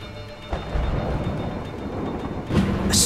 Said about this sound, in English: It's time for the thunder.